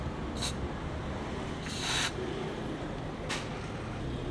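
Three short hissing bursts from an aerosol spray can, aimed through a thin straw into the frame of a motorcycle, over a steady low background rumble.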